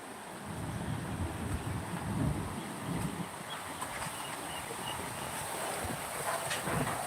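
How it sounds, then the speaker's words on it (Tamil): Strong wind gusting steadily outdoors, a loud, continuous broadband roar with buffeting rumble against the microphone, lasting throughout without any talking. "காத்து பாருங்களேன் எப்படி அடிக்கிறது பாருங்க காத்து."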